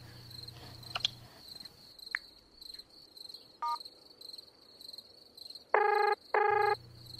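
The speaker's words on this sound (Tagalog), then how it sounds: "Ay, nagre-ring." Phone ringing after a number is dialed late at night: two long electronic ring bursts come through near the end, after faint dialing beeps and clicks over a steady high cricket-like tone.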